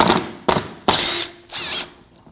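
Torx screws being backed out of the front bumper cover of a 2015-2024 Ford Edge with a power tool: four short whirring bursts separated by brief pauses, loud and close with no talk.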